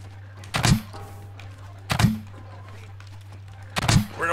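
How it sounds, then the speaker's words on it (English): Three loud, spaced thunks from tape bots firing rolls of tape in Scrap Mechanic, each a sharp hit with a short rising whine, over a low steady hum. "Dude, shooting rolls of tape at us."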